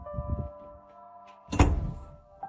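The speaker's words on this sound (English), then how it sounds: "you can hear someone knocking on another door" A knock on a door at a distance, a single dull thud rising out of a low hum and faint rustling, landing sharply partway through before fading back into quiet.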